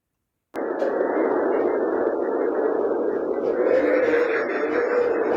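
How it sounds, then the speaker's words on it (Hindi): A steady broadband hiss and rumble, like filtered wind or static, holds at an even loudness after a sudden start, with no voices: a recorded sound of the planet Mars. "मार्स या मरीख की आवाज सुनिए।"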